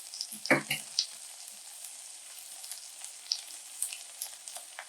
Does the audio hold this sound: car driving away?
no